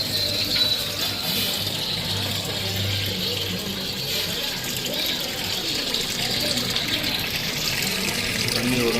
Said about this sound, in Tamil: தட்டி விட்டிங்கன்னா தண்ணி ஓடும்.